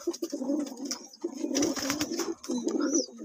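Trichy breed pigeons coo close up in a steady, overlapping series of soft throaty calls with brief pauses, and no voices are heard.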